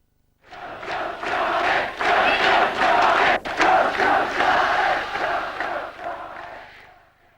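A Newcastle United football crowd roars during a European tie, a loud, continuous wall of cheering and shouting that rises quickly and holds strong for several seconds before easing slightly.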